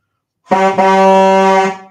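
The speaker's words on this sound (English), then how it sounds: "Bazooka gets the diesel train horn." A diesel train horn sound effect gives one loud, sustained, steady blast of a little over a second, rich in harmonics, standing alone with no voices.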